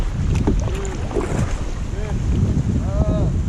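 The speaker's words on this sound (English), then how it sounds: "Get out of this wind." Strong wind roars across the microphone on a kayak trip after smallmouth bass, a constant heavy rush filling the whole stretch, with faint voices and a few short tonal chirps mixed in.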